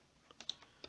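Quiet typing on a computer keyboard while code is being written, with about five separate keystrokes spread unevenly across one second and no talk.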